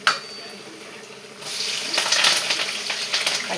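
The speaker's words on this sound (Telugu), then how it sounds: "ఇందులో ఇప్పుడు ఆనియన్స్ కరివేపాకు వేసేసుకుందాం" Sliced onions and curry leaves drop into hot oil in a pan, a quiet start swelling into a loud, steady crackling sizzle that continues close by.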